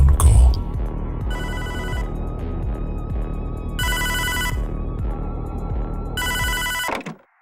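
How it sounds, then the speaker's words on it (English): A telephone rings for an incoming call, with repeated bright electronic ring bursts over a steady pulsing backing tone, loud and alone until it cuts off abruptly. "All that's left to do is my phone call."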